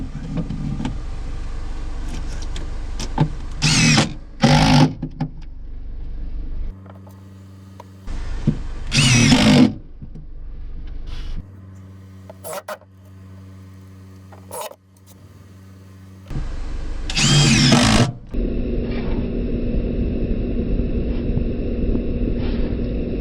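Power drill driving screws to fasten a brace inside a Bayliner 2450 Ciera boat hull, heard in several short loud bursts separated by quieter pauses, ending in a steady hum.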